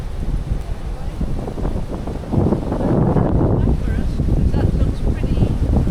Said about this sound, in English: Quite windy. This might be the cliff. We can hear the ocean here.